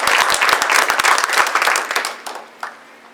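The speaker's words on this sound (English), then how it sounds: "So we can clap for that." Audience at a groundbreaking ceremony for a nutrition pharmacy applauding, a dense patter of many hands that thins out and fades after about two seconds, with one last stray clap.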